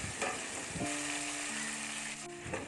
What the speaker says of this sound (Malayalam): മസാലകളൊക്കെ തേച്ച് റെസ്റ്റ് ചെയ്യാൻ വെച്ച ചിക്കൻ ഇതിലേക്ക് ആഡ് ചെയ്ത് കൊടുത്തിട്ടുണ്ട്